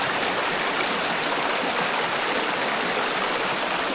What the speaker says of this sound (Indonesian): terdapat aliran sungai yang lumayan deras meskipun dangkal